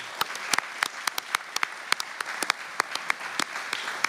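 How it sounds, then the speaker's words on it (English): Applause for the theatre staff at a season unveiling, with a steady wash of clapping punctuated by sharp individual claps over about four seconds, no voices. "just want to give a huge round of applause to our staff"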